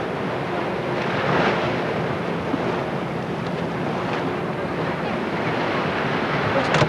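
Ocean surf rolls onto the coast of West Africa, a steady broadband wash of breaking waves with gentle swells, heard alone and fairly close, with some wind buffeting the microphone.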